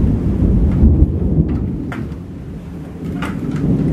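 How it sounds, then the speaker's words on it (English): Low rumbling thunder rolls through a steady wash of rain. A few brief crackles break through the noise, with no one speaking. "This is the big storm we're having."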